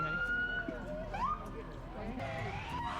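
Fire truck sirens wail at a Bigfoot festival parade in Willow Creek, the rising and falling tones moderately distant under crowd noise and talking.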